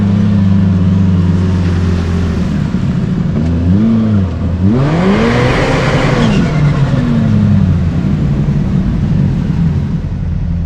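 A Kawasaki Teryx5 H2 UTV engine drones loudly and close on a trail, with rising and falling revs and gear changes swooping in pitch over a continuous motor roar.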